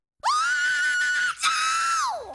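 A single sustained, high piercing scream opening a song, held loud and steady for about two seconds with a brief dip partway, then sliding down in pitch at the end.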